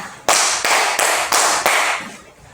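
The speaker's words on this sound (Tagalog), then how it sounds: "Bigyan ng 5 palakpak si Rina." Five loud, sharp claps in an even rhythm from a classroom, close and crisp, followed by a fading tail of room sound.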